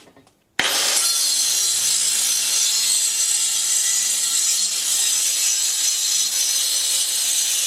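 Angle grinder fitted with a Graff Black disk bites into metal after a short quiet start, producing a loud, continuous high-pitched cutting screech held steadily for several seconds at close range.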